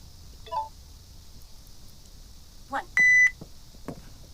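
A digital timer beeps once with a short, loud electronic tone, after a couple of faint clicks of handling, in a quiet room during an LED light bulb repair.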